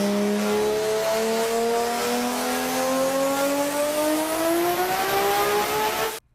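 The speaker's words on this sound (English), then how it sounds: "the 2JZ sounds deeper and more aggressive" A Toyota 2JZ engine revs in one long rising pull, the deep, aggressive tone climbing steadily in pitch for several seconds before stopping abruptly, loud and close with no talking.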